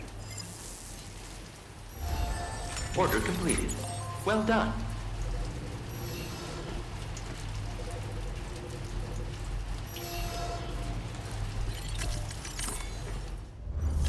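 Steady rain falls in Death Stranding 2: On the Beach, a soft continuous patter with a few sharper drip and mechanical clicks, running under brief spoken lines.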